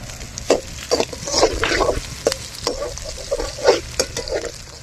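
Onions sautéing in a pan for village-style chilli chicken hiss and sizzle up close while a spatula stirs and scrapes in irregular bursts.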